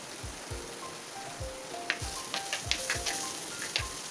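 Onion with ginger-garlic paste sizzles and crackles steadily in a hot pan while fish roast is prepared, with soft stirring thumps at a regular pace and no talking.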